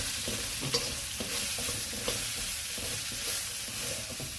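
Mushrooms, asparagus, baby corn and chilli fry in a pan, with a steady close sizzle broken by repeated scraping and tossing knocks from stirring, and no one speaking.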